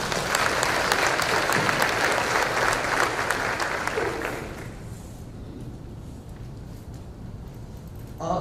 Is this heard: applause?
yes